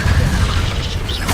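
A booming fiery spell blast from Hogwarts Legacy, the Confringo curse, a loud close burst rumbling through about a second and a half with a crackling tail, no talk over it.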